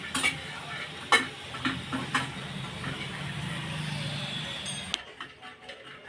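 Spices and grated coconut dry-roast in a pan, with repeated scraping strokes of a spoon over a low crackling sizzle that quietens toward the end.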